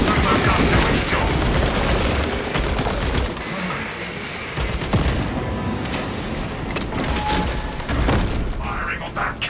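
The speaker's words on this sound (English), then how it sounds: "Let the servo gun do its job." A servo gun fires in the video game Warhammer 40k Space Marine 2 amid dense battle noise. Booming shots and rapid bursts sound loud and continuous, and voices speak over the gunfire.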